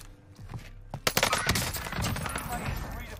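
Rapid gunfire in the video game Warzone during a 2v2 tournament, a few sharp shots followed by a sustained dense burst of automatic fire.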